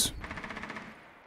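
Rapid automatic gunfire in the tactical shooter Rainbow Six Siege, a loud opening burst followed by a steady string of quick shots that fade out over about a second.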